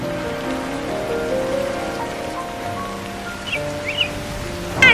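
Steady rain falls in a continuous, even patter on a cartoon roadside dhaba, with faint bird-like chirps and small tonal sounds scattered over the wash of rain.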